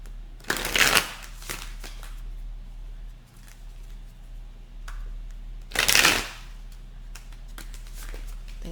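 Tarot cards are shuffled in two brisk bursts of riffling and flapping, several seconds apart, close by, with quieter handling and a low hum in between.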